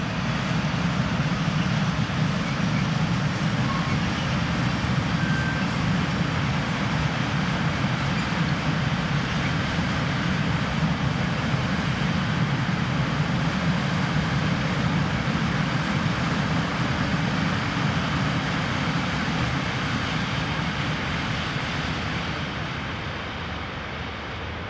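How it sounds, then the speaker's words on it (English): A heavily loaded steel freight train works along the Tauern Pass line in Austria, producing a steady, dense rumble and rolling roar that holds evenly for the whole stretch, with no voices. "This loaded steel train is split at St. Johann for the run up the Tauern Pass line to the summit"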